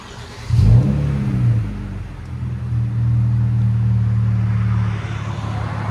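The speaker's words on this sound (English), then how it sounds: "2020 Kia Stinger. Muffler delete." A 2020 Kia Stinger GT 3.3L twin-turbo V6 exhaust with muffler delete, starting with a short throttle blip and then settling into a deep, steady idle rumble up close.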